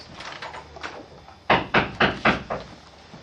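Knocking on a door in a dramatic stage production, a series of five loud, sharp raps in quick succession after a quieter stretch of softer knocks and room noise.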